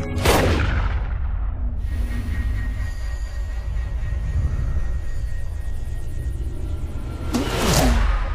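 A gunshot fired at a target, with a sharp loud blast at the start and a second one near the end, separated by a low rumbling, reverberant stretch.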